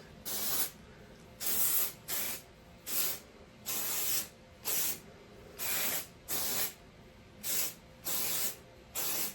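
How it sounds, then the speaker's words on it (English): Dry shampoo aerosol spray hisses onto hair in about a dozen short bursts, evenly spaced and close by, with quiet pauses between each spritz. "I love dry shampoo"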